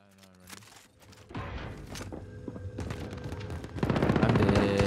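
Machine gun fire in Call of Duty Warzone, bursts of rapid shots that build in density and grow louder toward the end, with scattered sharp cracks in between.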